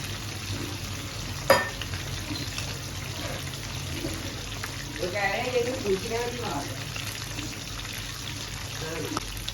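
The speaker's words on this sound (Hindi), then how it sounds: "फ्राई कर रहे हैं।" Chicken sizzles and crackles steadily as it fries in a pan, with faint kitchen clatter and a brief murmur of voices partway through.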